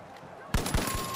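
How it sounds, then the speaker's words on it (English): Gunfire in The Finals, a shooter game: after a quiet moment, a loud burst of rapid shots starts abruptly and continues with several punchy cracks close by. "he's getting shot up from behind too"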